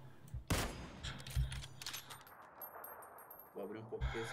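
Video game gunfire in a multiplayer match: bursts of sharp rapid shots, a loud volley near the start and another near the end, with quieter crackling shots between, mixed with game sounds and faint talk.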